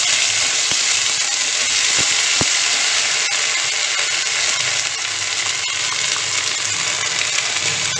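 Ginger fries in hot oil after cumin, a steady, close, broadband sizzle that runs unbroken, with a few sharp ticks and pops early on.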